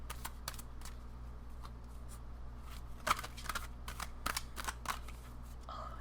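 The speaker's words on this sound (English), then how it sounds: "These cards are so hard to shuffle." Tarot cards being shuffled during an individual tarot reading, a series of soft, brief riffling flutters and taps scattered over a steady low background hum, fairly faint and with no voices.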